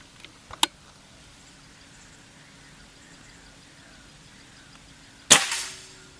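A sharp, loud air rifle shot cracks once after a quiet stretch, followed by a brief decaying ring; fainter clicks come earlier.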